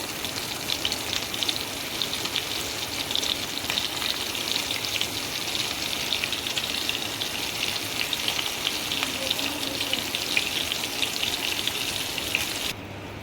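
Stuffed tinda (apple gourd) fries in hot oil, giving a continuous even sizzle and crackle with no talking, steady throughout before stopping abruptly at the very end.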